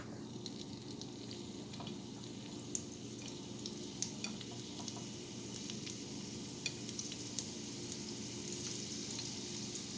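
Egg rolls fry in oil in a skillet with a steady, soft sizzle and occasional small crackles and pops, heard close up with no talking.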